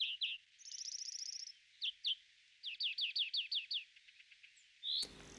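Chaffinch song in a garden, a series of bright, quick descending trills and chirps repeated in short bursts, fairly close and clear against a quiet background.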